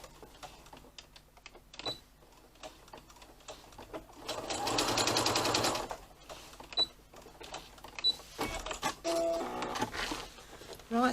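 A sewing machine stitches a quarter-inch seam on a classic tote bag, its rapid mechanical whir running in short bursts with a longer steady run midway, close by and moderately loud, separated by small clicks and handling noises.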